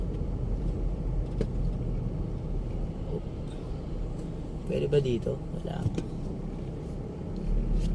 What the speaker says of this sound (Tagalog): Ang daming sasakyan guys.